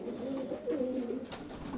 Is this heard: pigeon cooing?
yes